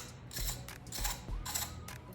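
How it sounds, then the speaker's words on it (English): Faint metallic clicks and ratcheting from a 15mm deep socket on a long extension working a spark plug on a 2019-2024 Toyota RAV4 2.5L engine, a few short bursts close by with no talking. "15mm deep socket with a long extension. Very carefully slide it in there, make connection with the spark plug."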